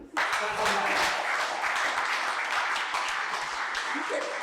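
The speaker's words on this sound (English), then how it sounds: "Can you clap for me?" An audience claps and cheers at a public philosophy talk about skateboarding, dense sustained applause that carries on steadily from start to finish.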